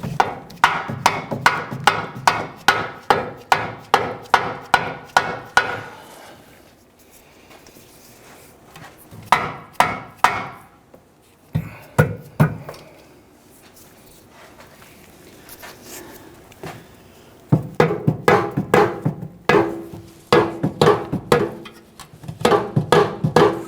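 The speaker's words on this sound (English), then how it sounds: "then we'll use a mallet or a dead blow hammer" Mallet or dead blow hammer taps a rear upper control arm bushing into the frame of a 1999-2004 Jeep Grand Cherokee, with rapid runs of close, sharp knocks broken by short pauses and a few scattered single hits.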